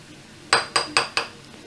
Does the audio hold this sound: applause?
no